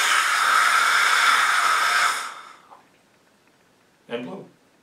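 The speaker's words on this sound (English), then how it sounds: "This is an air gun attached to an industrial air compressor." An air gun fed by an industrial air compressor lets out a loud, steady hiss of blowing air for about two seconds, then cuts off, followed later by one short close puff.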